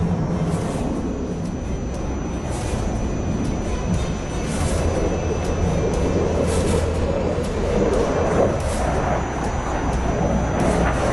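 A jet aircraft flying clean, without weapons, in a display at Dubai Airshow 2017 gives a steady, broad roar that holds at an even level throughout. It sounds somewhat distant and continuous, with no voices.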